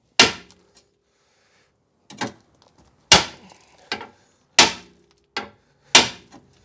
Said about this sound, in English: I'm just using a bolster and a club hammer to try and knock this back into some sort of shape